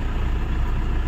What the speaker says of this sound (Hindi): अभी सेल मारूंगा और गाड़ी हमारी स्टार्ट हो गई फाइनली